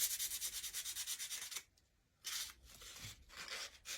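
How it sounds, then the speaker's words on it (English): Sandpaper rubs rhythmically across the inside of a small DIY Dollar Tree pallet sign, quick close strokes that stop for a short pause and then start again. "And then sand your inside there."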